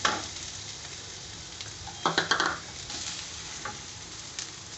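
Sliced onions sizzle in oil in a pan for coconut milk rice, with a few scraping stirs of a spoon cutting through the steady frying hiss, close and alone without speech.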